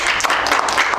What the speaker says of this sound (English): let's give Rachel Abramowitz one more round of applause